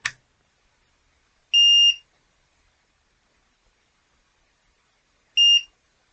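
Two short, clean electronic beeps from a multimeter doing a continuity test on a damaged Apple Pencil 2nd Gen, the first around a third of a second long and the second a few seconds later, loud and close against silence.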